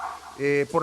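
Pet dogs barking indoors at home, a short burst of one or two close barks and a yip, loud against a quiet room.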